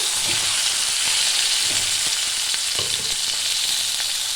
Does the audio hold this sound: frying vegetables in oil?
yes